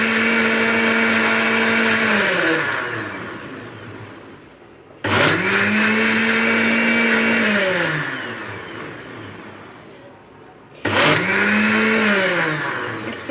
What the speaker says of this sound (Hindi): मैं इस आमेज़े को अच्छी तरह से ग्राइंड कर रही हूँ।